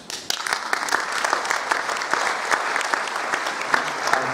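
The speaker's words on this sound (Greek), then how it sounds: "Ευχαριστούμε εσάς για το χειροκρότημά σας." An audience at a choir meeting in Grevena applauds with steady, dense clapping that sounds close and lively and holds at an even level throughout.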